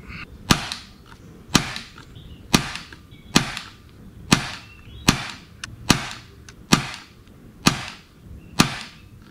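An air rifle firing Air Arms Diabolo Field Heavy .177 pellets of 10.3 grains: nine sharp, close shots about one second apart, each a crisp crack with a short tail, with no talk.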